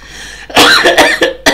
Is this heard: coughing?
yes